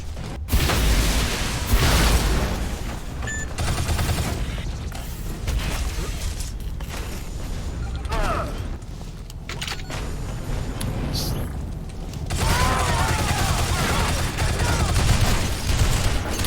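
Turrets in the game Shadow Complex Remastered fire in dense, sustained mechanical bursts and booms that keep coming almost without pause, loud and close, with occasional creaks and clanks in between.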